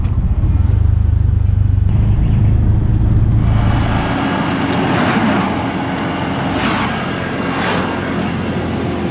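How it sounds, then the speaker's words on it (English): A car approaches along a road heard from inside a moving tuk-tuk in Brazil, its rising whoosh swelling over the steady rumble of the vehicle's own engine and wind, loud and close with no talking. "There's a car coming."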